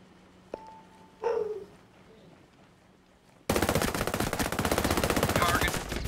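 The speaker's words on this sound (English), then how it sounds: "They're shooting." Sustained automatic gunfire from the tactical shooter Ghost Recon Breakpoint bursts in loudly and continuously after a quieter stretch of faint clicks, a brief tone and a short burst of voice.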